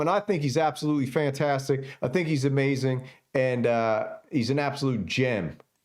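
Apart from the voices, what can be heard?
No everyday noises stand out.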